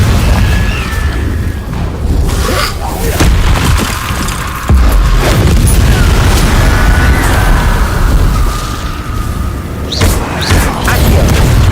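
Confringo fire spell blasts in Hogwarts Legacy: loud, deep booming rumbles roll on continuously with a few sharper bursts, dense and close.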